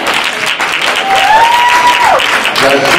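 A church congregation at The House of Praise applauds steadily, a dense loud clatter of many hands, while a voice rises in a sustained sung or called tone over the clapping.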